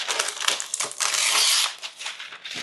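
Kitchen parchment or food wrap is torn off by hand without scissors, giving a close, crisp crinkling and ripping burst of paper that swells and fades over a couple of seconds.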